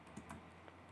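Typing on a computer keyboard while entering an Excel formula: a few soft, quick key taps, faint and close, in an otherwise quiet room.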